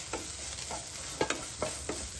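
Cinnamon and cardamom fry in a pan with a soft continuous sizzle, broken by several sharp scrapes and clicks of a spoon stirring the spices, close and fairly quiet, no talking.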